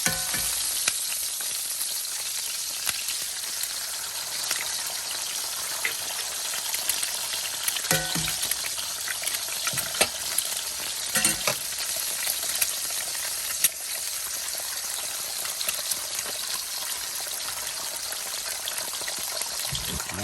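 Eggs frying in a cast iron pan, a continuous close sizzle with scattered small pops and crackles running throughout, no voices.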